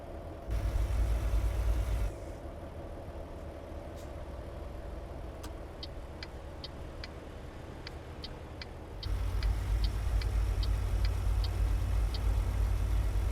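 Truck engine and exhaust in American Truck Simulator, a steady low rumble throughout that drops softer in the middle stretch while faint, evenly spaced ticks like an indicator repeat, then the louder drone returns.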